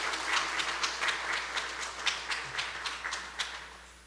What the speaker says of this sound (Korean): 우리 다시 한번 큰 박수로 인사하고 들어가시겠습니다